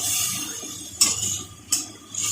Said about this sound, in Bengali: এবার সব কিছুকে আমরা ভালো করে নাড়াচাড়া করে মিশিয়ে নিচ্ছি।